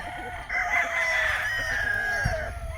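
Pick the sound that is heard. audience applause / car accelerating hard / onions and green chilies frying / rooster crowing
rooster crowing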